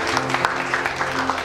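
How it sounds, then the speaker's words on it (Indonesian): Guests at a church wedding ceremony clap together, a brief burst of dense, close applause with a faint low hum beneath. "Beri tepuk tangan bagi mereka."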